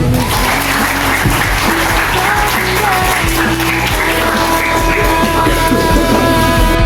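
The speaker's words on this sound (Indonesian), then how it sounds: "Tepuk tangan dulu." A crowd of campers at a scout camp in Cisayong applauds loudly and continuously, dense clapping filling the whole stretch with a faint voice underneath.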